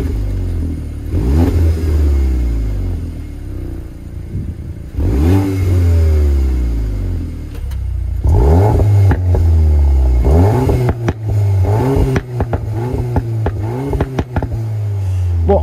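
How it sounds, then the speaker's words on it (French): A Golf 8 R Performance fitted with an Akrapovic titanium sport exhaust with four tailpipes revs hard several times, each loud rising blip falling away to a deep burbling idle, heard close with no talking. "je vous propose tout simplement d'écouter cette belle mélodie, on verra et on jugera ensemble de la qualité auditive de ces quatre sorties d'échappement"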